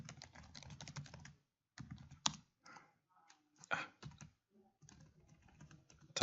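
Keys clatter on a computer keyboard as commands are typed in short bursts, close and fairly quiet, with a few harder single key presses between brief pauses.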